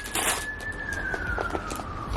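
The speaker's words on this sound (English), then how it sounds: "There's sirens going off." An emergency siren going off outside, a single faint falling wail drifting in from a distance over indoor background noise.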